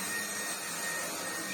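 A Greenote GSC60 vacuum cleaner runs continuously on a higher power setting, a steady, close, full-band whooshing drone with no talk over it.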